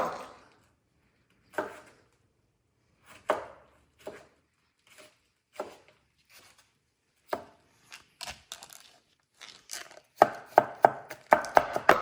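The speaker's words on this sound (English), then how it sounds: "We can chop it very finely." A knife chops cucumber finely on a board, starting as sparse, single strikes and building into rapid, steady chopping toward the end; close and crisp, with no talk.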